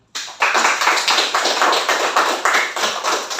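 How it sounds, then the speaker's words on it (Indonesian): A group claps in sustained applause for Group A in a classroom, a dense, steady patter of many hands starting abruptly and continuing throughout, fairly loud and close with no talk over it. "kita harus memberikan apresiasi, kita kasih tepuk tangannya"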